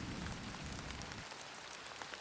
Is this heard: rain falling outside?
yes